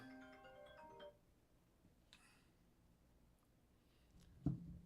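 A mobile phone rings through a live radio show with a melodic tone of stacked notes for about a second, then stops, leaving quiet studio background and a brief thump near the end.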